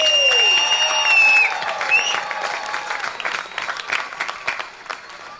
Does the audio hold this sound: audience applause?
yes